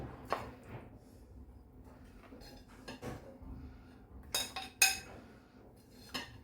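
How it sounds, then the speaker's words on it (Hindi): Green Bombay duck (bombil) curry with coconut being transferred into a serving dish, with soft scrapes and a few sharp clinks of a spoon against metal and glass, quiet and close, no talking. "चलिए अब सर्विंग डिश में निकालते हैं हम"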